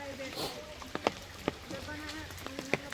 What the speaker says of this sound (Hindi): so I have come in the rain and बारिश के समय ही आप देख सकते हो क्या बिहेवियर है